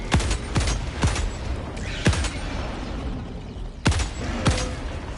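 Sniper rifle fire in the video game Helldivers 2: sharp, loud single shots spaced a second or two apart, five or so in all, with a faint mechanical clatter between them.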